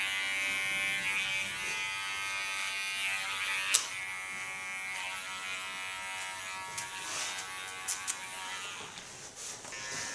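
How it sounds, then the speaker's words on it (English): A fine electric hair clipper buzzes steadily while trimming small hairs around a man's haircut, a close, continuous high whine with a few brief clicks and bumps. "Now with a fine clipper, I clean the small hairs."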